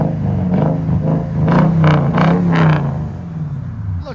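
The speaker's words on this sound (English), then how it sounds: "Oh yeah, that's a nice tone. Sounds so much better with an X pipe on it too." A Toyota Tundra 5.7L V8 with an X pipe exhaust revs up in several quick, loud, deep bursts that rise and fall over a rumbling idle close by.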